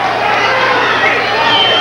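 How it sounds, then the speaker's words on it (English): Boxing fans stand and applaud in a dense, steady wash of clapping and crowd noise, loud and continuous throughout the brief moment. "The fans standing and applauding."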